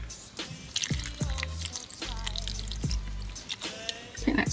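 Water poured from a can onto a wilted houseplant, splashing and dripping in uneven spurts with a faint trickle between them, close by and fairly quiet.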